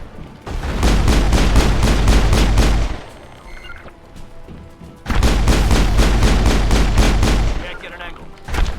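Rapid automatic gunfire in the game Mass Effect roars in two long, loud bursts separated by a quieter gap, a dense stream of shots close up.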